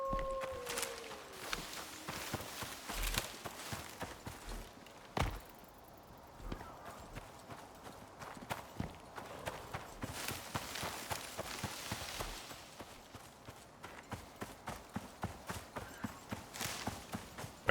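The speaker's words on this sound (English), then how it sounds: "I heard a horse." Horse hooves clip-clop steadily in the survival video game Icarus, a faint, regular trot running through the whole stretch alongside scattered game noises, with no talking.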